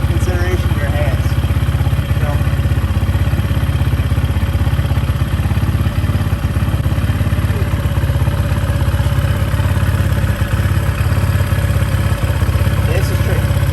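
A dirtbike engine idles steadily and loudly up close during air-fuel mixture screw adjustment, a constant rapid mechanical chug with clattering, while someone talks over it.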